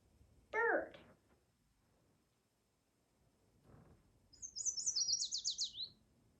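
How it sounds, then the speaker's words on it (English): A bird gives a short, bright chirp, then after a pause a quick warbling trill of rapid high notes, both fairly close and clear against a quiet background. "Bird."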